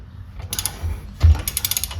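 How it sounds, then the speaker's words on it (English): A ratchet working a 14mm bolt on the front brake caliper of a BMW G80 M3, loud close bursts of rapid clicking in two short runs with a metallic clunk between them. "And then we're going to go ahead and remove this 14mm."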